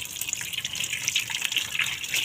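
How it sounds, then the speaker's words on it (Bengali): Water is poured over boiled noodles in a kitchen, making a continuous gushing, splashing stream at moderate volume that runs alone for the whole moment. "এখন পানি ঢেলে দিতেছে"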